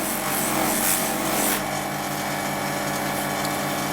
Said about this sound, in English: I'll put a bit of red polishing compound on the buffer, turn it up to about 500 RPM, and then start running across the pendulum.